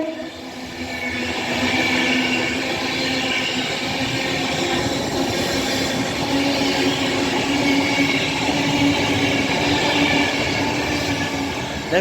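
A train passes through Rugby station on the West Coast Main Line, a loud, steady rail roar with a low hum, rising after the first second and holding close and continuous throughout.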